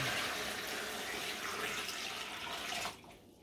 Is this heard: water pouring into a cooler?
yes